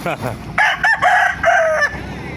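An eight-month-old rooster crows loudly nearby in several sharp, strained bursts, preceded by a brief bit of clucking, at a poultry market.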